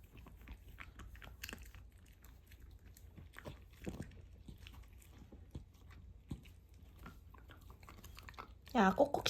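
A dog chews food given to it indoors, with soft, irregular crunches and bites repeating over several seconds under quiet talk, then a louder rustle at the end.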